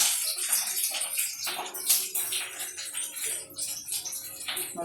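Chopped onion sizzles and crackles steadily in hot coconut oil in a pan, a close, continuous frying hiss with small bursts, no voices over it.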